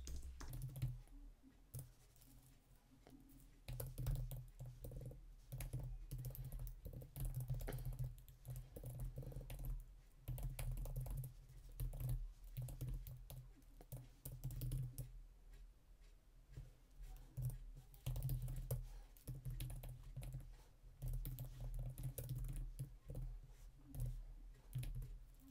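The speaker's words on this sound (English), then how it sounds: "I'm just going to type in a question" A question is typed on a computer keyboard as a steady, quiet run of close key clicks with brief pauses.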